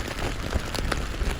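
Rain drums steadily on the fabric walls of a Lanshan tent, a dense close patter with occasional heavier drops and gusty rustling, no voices.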